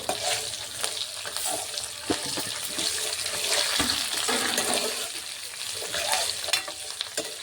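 Green chillies sizzle and crackle steadily in a hot pan for tamarind chutney, with occasional stirring and scraping sounds and no talking.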